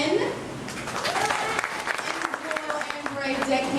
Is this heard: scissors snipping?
no